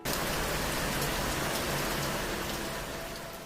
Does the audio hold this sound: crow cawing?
no